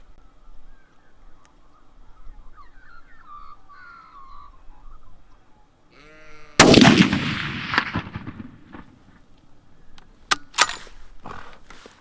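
A Browning A-Bolt rifle in .300 Win Mag firing 200-grain ELD-X loads during a ladder test lets off one loud, sharp shot with a booming tail, then fainter cracks and clatter, outdoors with birds calling softly before the shot.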